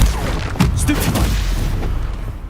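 Stupefy spell cast in the video game Hogwarts Legacy, heard as a loud, booming blast with crackling, gunfire-like bursts that stays dense and sustained for a couple of seconds, with no talk.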